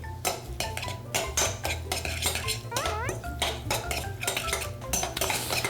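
A diabetic-friendly seasoning sauce made with allulose and salt being mixed in a bowl, with rapid, rhythmic clinking and scraping of a spoon against the bowl, loud and close, continuing steadily without speech.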